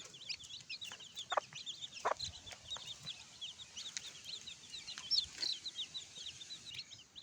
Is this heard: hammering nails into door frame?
no